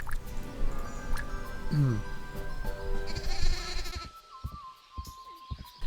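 A sheep mount in the game LUNA Mobile gives a short, wavering bleat amid game music and effects, while someone talks throughout.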